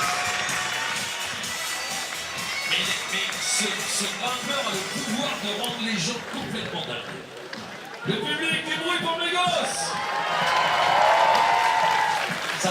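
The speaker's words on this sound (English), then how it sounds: "Claps to the crowd." A crowd applauds and cheers at a lead semi-final of the Villars 2021 climbing World Cup, with swelling clapping and crowd noise under a commentator talking throughout.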